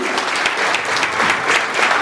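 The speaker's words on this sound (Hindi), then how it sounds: "एक बार जोरदार तालियां होनी चाहिए प्लीज" Loud, dense applause from an audience at a youth parliament event in Chamba district, steady clapping throughout with no pauses.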